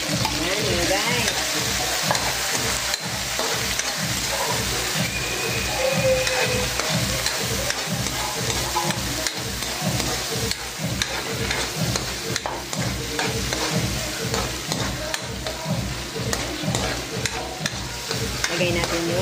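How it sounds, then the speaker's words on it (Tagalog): Corned beef sautés loudly in a pan, a dense constant sizzle broken by quick, rhythmic stirring strokes of a spoon, close and continuous with no talking. "Igisa natin ang ating corned beef."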